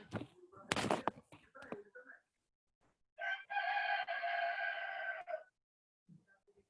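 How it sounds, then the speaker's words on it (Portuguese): A rooster crows once in a long, drawn-out call, fairly clear but somewhat distant, following a few faint bumps and a voice. "Nossa, tem um galo aí apitando."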